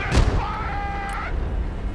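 Gunfire in the Broken Arrow military strategy game, with a sharp loud blast at the start followed by rumbling battle noise and a brief tonal in-game effect, with no clear talk.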